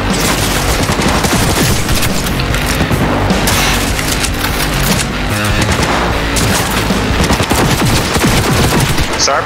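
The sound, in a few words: gunfire from a weapon in a video game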